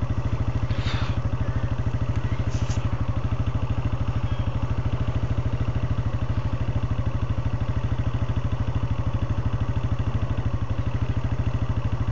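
A motorcycle engine runs steadily at idle close by, a continuous low, even throbbing that holds unchanged throughout, with only faint background sounds on top.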